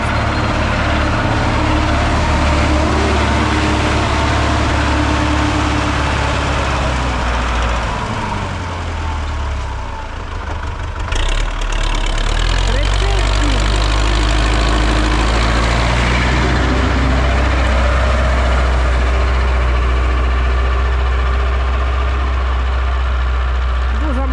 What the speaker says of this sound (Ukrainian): МТЗовський цей Д-240 оре так, що це капець